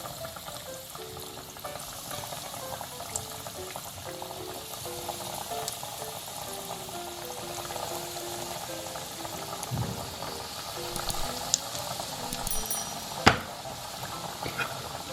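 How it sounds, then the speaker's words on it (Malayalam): Beetroot vegetable cutlets fry in medium-hot oil, giving a steady, soft bubbling sizzle throughout with a few small crackles and one sharp pop near the end. "ഇനി ഇത് നമുക്ക് വറുത്തെടുക്കാം."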